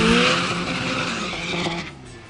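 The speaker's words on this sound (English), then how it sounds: "Uno getting the launch." A turbocharged Fiat Uno launches off the line at a drag race at Midvaal Raceway, its engine roaring loud and near with squealing tires that rise in pitch before fading away.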